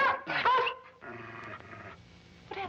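An injured dog whimpers and growls nearby in a 1953 London-set film noir, with a whiny cry, then a low sustained growl, and another whimper at the end.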